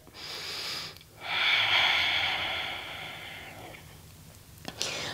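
Slow, deep breaths during an ashtanga yoga practice, soft airy inhales and exhales close to the microphone, quiet and unhurried with pauses between them.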